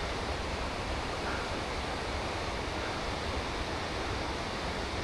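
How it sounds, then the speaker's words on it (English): Small waterfalls beside a fishing trail rush in a steady, unbroken broadband roar that holds at an even level throughout, with no voices. "Those little waterfalls over there."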